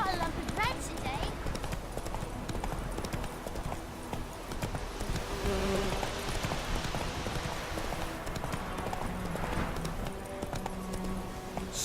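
Horse hooves clip-clopping at a steady riding pace in The Witcher video game, continuous rhythmic hoofbeats with occasional snorts, a voice speaking briefly over the top.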